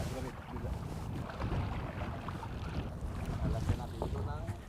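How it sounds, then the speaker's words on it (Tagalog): A small wooden boat is paddled across a rough, choppy sea, with continuous sloshing water and wind noise at moderate level, faint voices occasionally under the wash. "Kailangan po magsagwan talaga kasi kung saan-saan na po mapapunta yung bangka"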